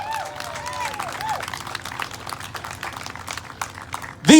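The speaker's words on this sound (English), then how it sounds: "A big round of applause for our state troopers." A rally crowd claps for state troopers at a blue line and first responders ride, scattered applause with voices and cheers mixed in, ending in a sudden loud shout.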